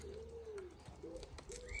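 Pigeons or doves coo repeatedly at a garden bird table, with soft chirps and tweets mixed in, steady outdoor ambience behind the calls.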